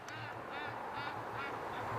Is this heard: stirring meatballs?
no